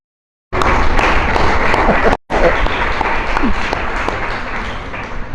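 A congregation gives a round of applause for the creator during a sermon, dense continuous clapping that starts abruptly, breaks off for a moment, then resumes and carries on steadily.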